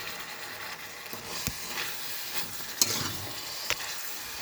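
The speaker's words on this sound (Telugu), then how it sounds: "మసాలా పట్టించిన ఫిషెస్ ఇందులో వేసేయండి" Masala-marinated fish sizzling and frying in a pan, a steady crackling hiss with occasional sharp clinks of a utensil against the pan.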